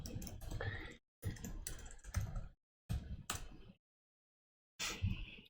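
Quick bursts of typing on a computer keyboard during Python and Django coding, clattering key clicks in short runs separated by pauses, fairly quiet and close, with no voice over them.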